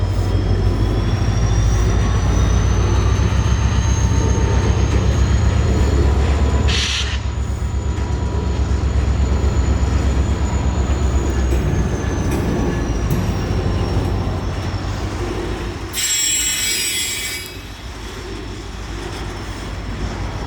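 Train passing through a railroad crossing in Plant City, Florida, with gates failed, throttling up and gaining speed: a loud, steady diesel rumble and rolling wagon noise, with a high steady squeal and a brief bright burst near the end.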